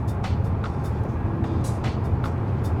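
Steady broadband road and engine drone inside a Kia Sorento 2.2 diesel cruising on the highway at 110 km/h, a constant close rumble with a few faint higher swishes and no voices.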